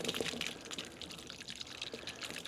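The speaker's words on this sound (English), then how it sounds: "We'll get some of the free run juice too here." Free run Petite Sirah grape juice pours and trickles from home-winemaking must, a steady close liquid flow with splashy drips, no voices.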